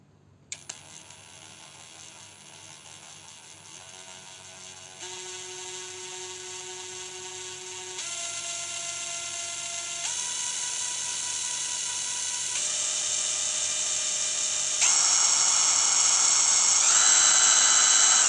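A THAKITEC 230 Nm 16 V cordless impact wrench runs steadily and loud, its motor whine rising in distinct steps as the speed setting is raised, with a few clicks at the start.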